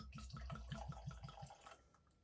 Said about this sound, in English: A nice healthy glug.